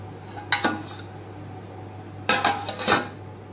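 A lid clanks onto a pot of soybean curry: two sharp metallic knocks, then a pause, then a louder cluster of rattling clinks as it settles, close and clear over a low steady hum.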